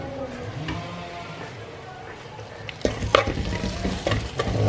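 Kashmiri chili powder and spices sautéing with green chilies in a pan for karimeen mappas, a steady sizzle under background noise, then louder scraping stir strokes near the end, close by with no talk.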